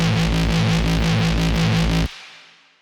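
A jump-up intro respace synth effect made in Xfer Serum with heavy reverb plays as a loud, pulsing, distorted tone with rhythmic throbs, then cuts off abruptly and leaves a long reverb tail fading away.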